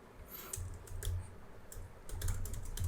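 Quiet, close keystrokes on a computer keyboard come in short clusters while code is being written, with brief pauses between the bursts of typing.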